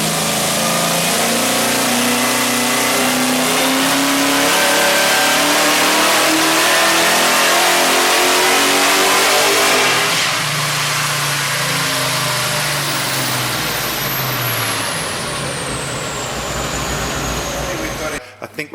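A supercharged Holden VR Commodore with a Harrop FDFI setup, high-stall converter and Turbo 400 gearbox screams loudly on a dyno, rising and falling through a full run before cutting off abruptly, with a voice heard over the engine.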